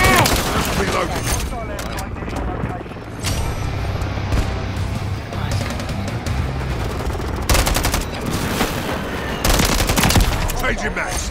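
Call of Duty gunfire rattles in rapid automatic bursts, loud and close, over a busy battle mix with someone speaking over it.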